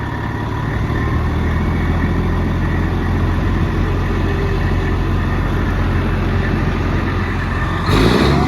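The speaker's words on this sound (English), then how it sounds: "You hear that turbo?" A 1994 Spartan fire truck's turbocharged diesel engine idles nearby in a loud, steady low rumble with a faint turbo whine, shifting briefly near the end; no one speaks.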